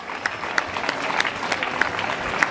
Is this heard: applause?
yes